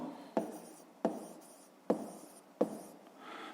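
A pen scratches out a maths solution for a fifth-grade exercise in a notebook, with four sharp taps at roughly regular intervals among steady, close scratching strokes.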